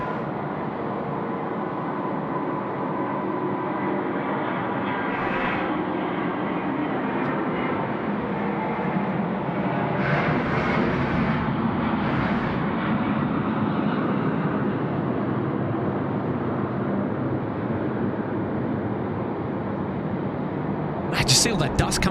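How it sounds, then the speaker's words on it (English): A China Southern Airbus A350-900 rolls for takeoff on runway 34 left at Sydney Airport at night, a distant, sustained broadband jet roar building steadily while someone talks over it almost continuously. "China Southern friends now rolling. Runway 34 left. The A350 900."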